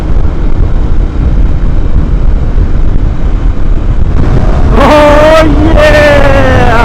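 A 2015 KTM 1190 Adventure motorcycle roars steadily on the move with heavy wind rush, then its engine note rises in two sharp, loud revving surges near the end.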